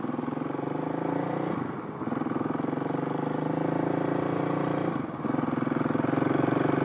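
A Kawasaki KLX 351 motorcycle fitted with a quiet core exhaust insert runs nearby with a steady, muffled engine drone, briefly dipping twice as the throttle eases before picking back up.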